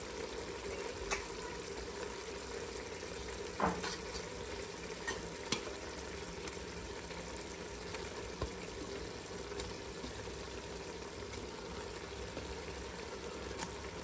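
Omelettes being stirred into simmering biryani gravy, a faint continuous bubbling sizzle with occasional soft spoon scrapes and clinks; no voices.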